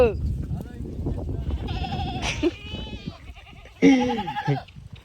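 Goats bleat loudly nearby, several wavering calls in the second half, with people talking and background noise at the start.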